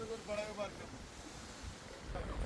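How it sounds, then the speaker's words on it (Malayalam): Wind and waves at sea on a deep-sea line-fishing boat: a soft, continuous rush of wind and water wash at low level, with a voice briefly at the start. "ഉച്ച സമയമായപ്പോഴേക്കും കാറ്റ് കുറച്ച് കൂടിയിട്ടുണ്ട് കേട്ടോ അതുപോലെ തന്നെ തിരമാലകളുടെ ഉയരവും കൂടിയിട്ടുണ്ട്"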